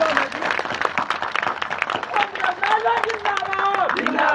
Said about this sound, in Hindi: जोरदार ताली में दम नहीं